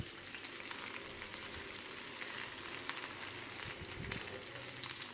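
Okra pieces roast in a pan over a low gas flame, giving a steady, soft sizzle and crackle with faint scattered pops, unbroken throughout and without talk.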